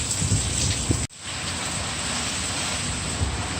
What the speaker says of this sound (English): the rain is starting to fall sideways. And it's picking up.